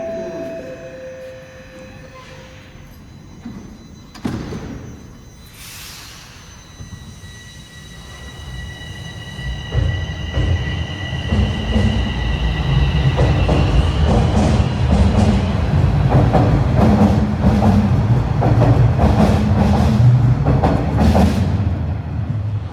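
A TTC Line 4 Sheppard subway train at Leslie Station sounds a few tones, then rumbles in and rolls past loudly with rising clatter and squeal, with a brief announcement early on.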